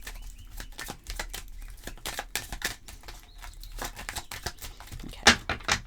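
Tarot cards are shuffled by hand in a steady run of quick riffling and flicking bursts, close and crisp, with no talk over them.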